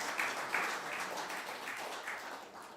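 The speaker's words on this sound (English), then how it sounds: "Let's give a round of applause" Applause from an audience at a Nepal-UK tech forum, a fairly quiet, even wash of clapping hands that carries on for a few seconds, heard from some distance, with no speech.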